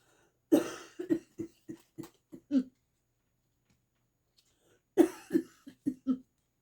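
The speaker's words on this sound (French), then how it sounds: "Excusez-moi, je tousse." Two bursts of harsh coughing, each a quick series of five or six coughs, separated by a couple of seconds of quiet; close and fairly loud.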